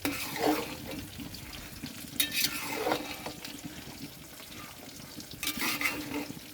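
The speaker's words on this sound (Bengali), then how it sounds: "ভালো করে নেড়ে দেবো" Rice for khichuri being stirred in a pan, with scraping strokes of the spoon recurring every few seconds over a soft steady background, close and moderately loud, with no talk.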